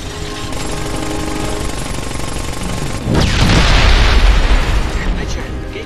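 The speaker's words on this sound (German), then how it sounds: "Ja, ist ein Luftschlag." An airstrike in the video game Ghost Recon Advanced Warfighter 2: continuous loud rattling gunfire-like noise, then a heavy booming explosion bursts in and rumbles on for several seconds.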